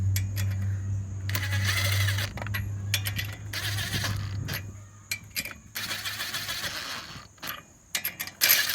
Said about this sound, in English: When you're putting your lug nuts back on, you're going to go in a star fashion to get them on evenly.